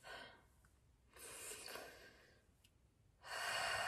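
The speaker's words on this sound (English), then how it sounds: "I would just like you to finish with one last deep breath." A slow, deep breath taken close to the mic during a guided mindfulness exercise: a long breathy inhale, a pause, then another airy breath and a fuller rushing exhale, all soft and alone.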